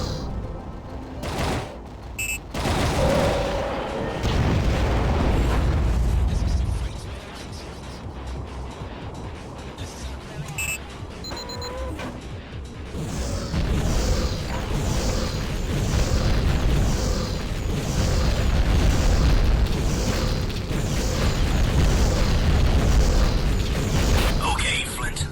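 A missile launches and explodes in the underwater game AquaNox, heavy booms and bursts rolling through a long stretch of rumbling combat noise, with voices talking over parts of it.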